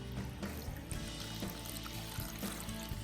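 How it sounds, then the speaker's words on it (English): A cup of water pours into a pressure cooker with a faint, continuous trickling splash, while soft background music plays. "Now I'm going to add a cup of water"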